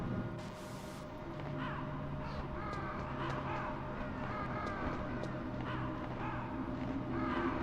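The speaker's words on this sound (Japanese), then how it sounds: "カラス。" Crows cawing in the video game Metal Gear Solid, several harsh repeated caws scattered over a steady low background hum, fairly close with no talk.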